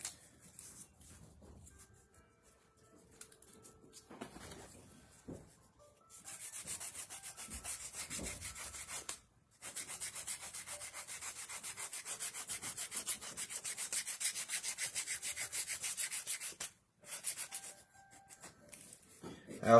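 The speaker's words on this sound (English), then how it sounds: "we're going to get back to sanding." Steady back-and-forth sanding on a leather briefcase edge, close and continuous rubbing strokes that run for long stretches with two brief pauses and no speech.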